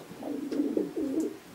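Pigeons in a loft give several soft, low, rolling coos close by, one phrase after another with brief gaps, and there is no talking.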